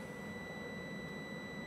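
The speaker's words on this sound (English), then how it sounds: "I'm going to test my low pressure alarm system" Inside a truck cab, a low air pressure warning alarm sounds as a steady, continuous electronic tone over the hum of the engine, with no one talking.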